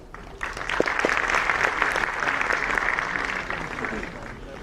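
An audience claps in a dense, sustained round of applause that fills the hall for about four seconds, welcoming a lecturer to the stage at a talk on Agnihotra.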